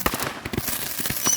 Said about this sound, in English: Let's zoom out and see this nice firework.